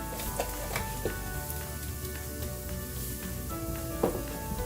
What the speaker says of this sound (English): while the garlic is cooking